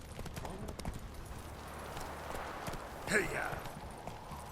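Roach, a horse in The Witcher 3, clip-clopping at a steady walking rhythm, hooves moderately close under game ambience, with a voice speaking briefly over it.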